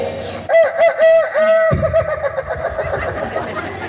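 A voice imitates the crow of a Sulawesi laughing rooster in a long warbling call, breaking into a chuckle-like cackle at the end, loud and close.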